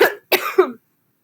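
A woman coughs in short close bursts with a dry throat: one cough, a pause, then two quick coughs, followed by silence.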